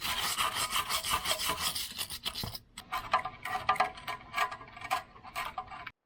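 Grease fitting being threaded into the side of a lower ball joint on a Toyota Tacoma, heard up close as a continuous scraping, ratcheting rasp with small metallic clicks, steady and fairly loud with no talking.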